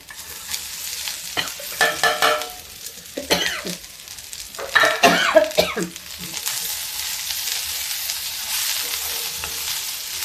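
Okra with chillies and garlic sizzling and being stirred in an iron kadai, with bursts of scraping and frying hiss coming in uneven waves, close and moderately loud, alone without talk.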